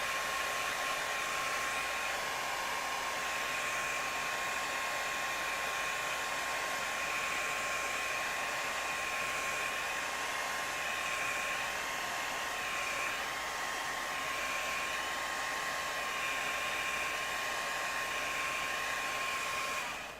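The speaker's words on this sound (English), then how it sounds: "let's just get a hair dryer this real quick" A hair dryer runs continuously at close range, a loud, unbroken breathy roar with a faint steady whine, used to dry a prop gauntlet and cutting off right at the end.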